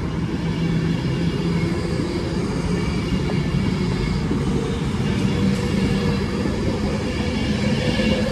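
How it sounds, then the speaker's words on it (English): A Northern service train passes at Stoke-on-Trent railway station, sounding as a steady, fairly loud low rumble and rolling clatter that lasts throughout with no voices. "There goes the 11:55 Northern service to Manchester Piccadilly via Macclesfield from Stoke-on-Trent."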